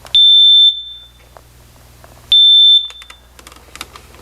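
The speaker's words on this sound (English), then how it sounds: "test the smoke detector for proper operation" A smoke detector being tested after a battery change gives two loud, shrill high-pitched beeps, each about half a second long and spaced roughly two seconds apart, with faint handling clicks between them.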